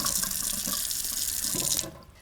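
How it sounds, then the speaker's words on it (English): Tap water runs steadily over two cups of fine bulgur wheat being rinsed in a kitchen sink, a continuous close splashing rush that cuts off near the end, leaving a quiet tail. "I'm gonna use 2 cups of our fine bulgur wheat. And I'm just gonna rinse it a little bit."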